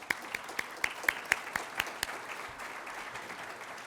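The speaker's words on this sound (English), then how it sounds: "I'd like to ask you to give them a round of applause" Sparse applause from a small audience at a ULI Toronto event, about a dozen distinct claps spaced across the first two seconds, then fading into quiet room noise; faint and fairly close.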